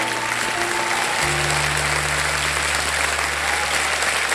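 Studio audience on the quiz show Kaun Banega Crorepati claps loudly and continuously in a dense, even burst, with a low musical tone sustained underneath.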